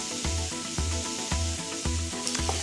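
Chicken sizzling on a grill: a close, steady hiss with regular rhythmic knocks or scrapes roughly every half second over a low hum, no voices.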